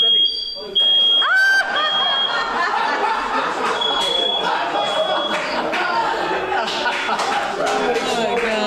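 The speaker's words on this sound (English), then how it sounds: "Oh, it's a smoke alarm." A high-pitched smoke alarm chirps intermittently amid a noisy crowd at a memorial gathering, with laughter and overlapping voices.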